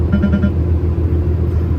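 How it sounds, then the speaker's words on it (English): A truck's lane departure warning gives a quick series of about four short electronic beeps over the steady low rumble of the cab on the road. "this truck beeps at me every time I go over a line or get too close to somebody"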